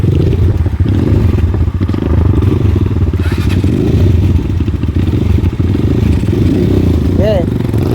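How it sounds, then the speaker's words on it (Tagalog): A heavy motorcycle rides a light trail with a loud continuous engine rumble close by, mixed with clatter and scraping from the rough ground, and a voice talks over the noise. "papares tayong mabibigat pang motor ngayon ha."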